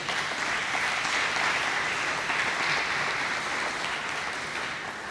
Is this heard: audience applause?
yes